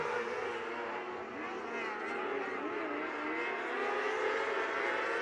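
Micro sprint race cars roar together as the green flag drops at Port City Raceway, a dense, sustained engine drone that swells steadily throughout the POWRi Outlaw league race start.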